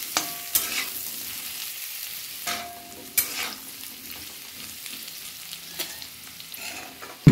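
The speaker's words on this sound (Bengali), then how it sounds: "পেঁপেগুলো ভাজা হয়ে গেছে, একটু গায়ে রং এসে গেছে।" Papaya pieces frying in oil, a close, steady sizzle broken by several sharp scraping stirs of a spatula in the pan, with no voices.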